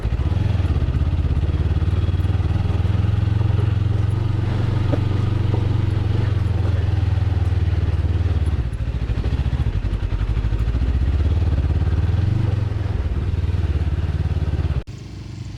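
Motorbike laboring up a rough mountain track in the Sharan forest of Naran Kaghan, its engine droning loud and close with rattling clatter over the bumps, then cutting off abruptly at the end.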